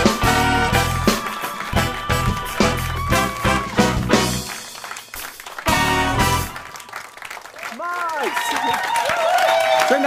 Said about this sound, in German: Fetten Applaus für Max!